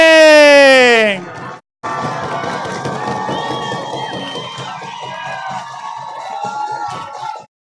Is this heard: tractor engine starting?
no